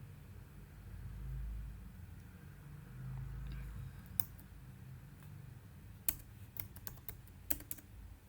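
Faint typing on a computer keyboard in a Linux text editor: a low rumble fills the first half, then scattered, close key clicks come in short, irregular bunches with no talk.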